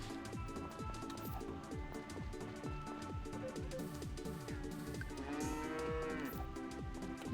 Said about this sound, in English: Good cow, Frida.